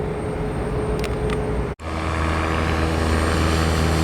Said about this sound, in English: There goes this little propeller plane.